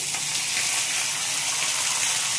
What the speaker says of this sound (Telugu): ఈ కరివేపాకు ఇవి కూడా వేసేద్దామండి కరివేపాకు